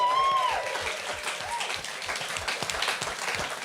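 A live audience gives a round of applause for a backstage crew at a political talk show, steady scattered clapping throughout with a brief tone and faint voice near the start.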